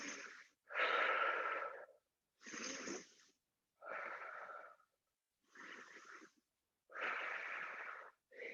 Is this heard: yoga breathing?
yes